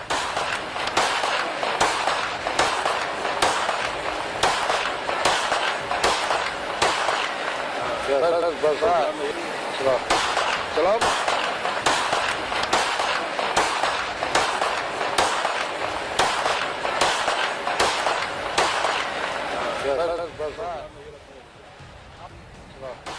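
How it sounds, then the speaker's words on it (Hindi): Rapid gunfire, around a dozen sharp shots cracking one after another in a fast irregular burst, loud and close, with voices shouting and talking over them before the firing stops. "असद बेखौफ एक के बाद एक ताबड़तोड़ गोली चला रहा है"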